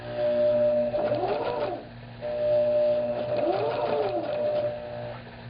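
A sewing machine stitching the skirt of a vintage wedding dress being remade as a gothic gown runs in two short bursts of fast whirring with steady mechanical hum, close up, separated by a brief pause, with no talking.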